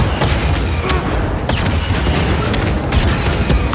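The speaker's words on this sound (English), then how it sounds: "So that fires the cannon." Cannon blasters fire in Star Wars Jedi Fallen Order, a dense barrage of loud booming shots and bursts with sharp repeated cracks over continuous rumbling.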